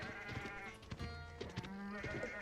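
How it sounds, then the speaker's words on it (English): Sheep in Age of Empires 4 give several short bleats in quick succession, clear but quiet, over a soft game background without speech. "Notice the scout does immediately grab some sheep."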